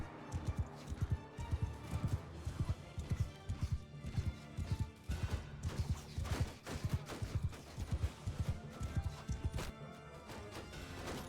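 Rapid hoof thuds of a horse galloping in the medieval battle game Mount and Blade II: Bannerlord, pounding steadily and loud under a dense bed of combat crashes and clatter, with no voice.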